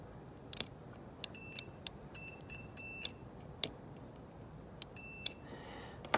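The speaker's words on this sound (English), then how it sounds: "Now it should beep" Short, thin electronic beeps come several times while the power seat switch of a 2008 Chevy Tahoe Hybrid is tested, with faint clicks and handling noise between them and no talking.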